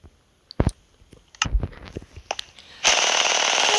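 Automatic gun firing bullets in the Craftmania video game, scattered sharp shot-like bangs and clicks at uneven intervals, ending in a sustained loud burst of rapid fire.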